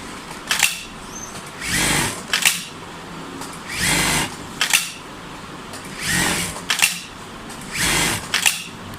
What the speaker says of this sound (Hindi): अभी ये अब जैसे ही ट्रिमर चलेगा 1 काउंट करेगा